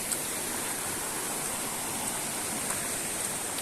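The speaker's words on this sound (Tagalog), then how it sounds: "Kung naririnig niyo, medyo malakas yung ulan dito ngayon." Heavy rain pours steadily in a jungle, a dense, unbroken hiss of falling water close around the listener with no pauses and no voices.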